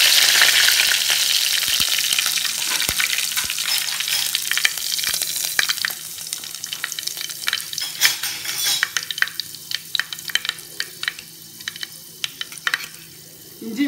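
Mustard seeds frying in hot oil for a lovi-lovikka pickle give a loud, steady sizzle that thins out over time into sharp, scattered crackles and pops, with no talking.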